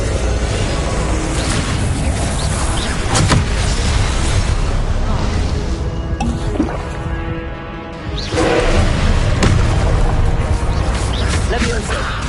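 Incendio fire spell cast in the PS5 game Hogwarts Legacy: dense, roaring blasts and booming whooshes fill the clip, repeating in quick succession amid loud combat effects, dipping briefly before resuming.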